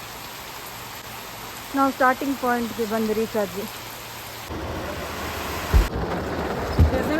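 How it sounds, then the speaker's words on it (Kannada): Heavy monsoon rain pours down in the forest on the Ranipuram trek as a loud, constant roar. A person speaks briefly over it, and later deep low thumps of thunder or gusts break through. "ಕಾಡಲ್ಲಿ ನಡಿಬೇಕಾದ್ರೆ ಫುಲ್ ಜೋರು ಮಳೆ ಶುರು ಆಯಿತು."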